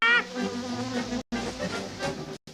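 Bees buzzing in a hive in a Smurfs cartoon, a continuous close droning hum that wavers in pitch and breaks off briefly twice.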